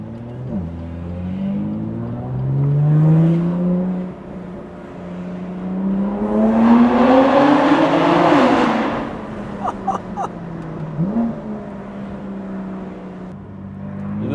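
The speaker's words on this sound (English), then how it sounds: "Lovely exhaust sound." A BMW S55 engine with catless resonated downpipes revs hard, its exhaust note climbing in pitch through a loud, rising pull before settling back to a burbling idle with a few brief blips, close and without talk.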